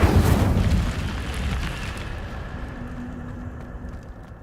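An Incendio fire spell cast in the Hogwarts Legacy game bursts out as a loud, deep whooshing blast that then settles into a rumbling roar and slowly fades over a few seconds.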